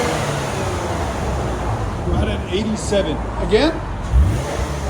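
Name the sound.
Lexus RC 350 V6 stock exhaust revving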